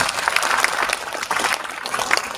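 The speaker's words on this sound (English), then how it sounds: "A round of applause to him again." Audience applause after a talk at a Hong Kong Web3 event: a steady, dense round of clapping from a crowd that fills the whole moment without pause.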